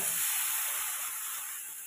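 Pieces of gathi kochu (taro) dropped into hot oil with frying potatoes in a home kitchen give a steady, loud sizzling hiss that fades slightly over two seconds.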